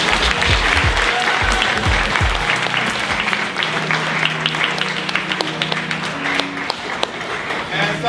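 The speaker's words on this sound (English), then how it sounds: "So let's give them a round of applause." A crowd applauds loudly and continuously indoors at a celebration event, with a burst of low voices or cheers at the start before the clapping settles into steady applause.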